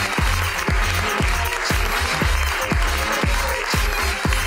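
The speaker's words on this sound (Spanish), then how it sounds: "Un aplauso para Jan Piña, Jan vamos." Audience applause for a contestant named Jan Piña at a live comedy show, a steady dense clapping wash with sharp bass thumps recurring roughly every half second under it, loud and continuous throughout.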